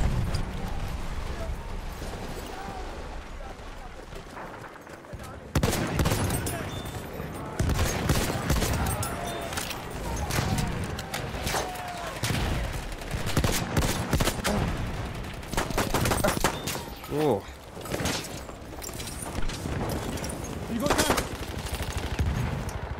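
Battlefield 1 gunfire rattles in dense, loud bursts of rapid automatic shots that run almost without a break.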